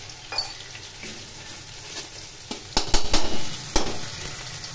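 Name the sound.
small fish frying in oil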